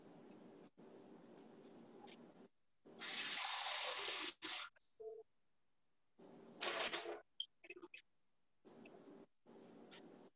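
Tap water runs into a measuring cup for half a cup during home cooking, in two bursts: a longer steady gush and then a short second pour, with people talking before and after.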